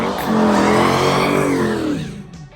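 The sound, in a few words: truck tire burnouts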